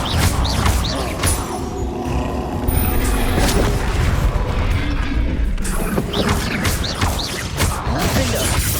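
Booming spell blasts and magical impacts erupt during combat in Hogwarts Legacy, heavy rumbling explosions and crashes layered with effects, loud and close, with brief voices over the din.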